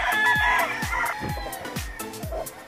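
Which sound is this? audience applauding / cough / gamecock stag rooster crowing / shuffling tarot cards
gamecock stag rooster crowing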